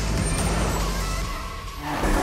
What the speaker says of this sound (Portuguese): Vou pegar a caminhonete aqui, ó.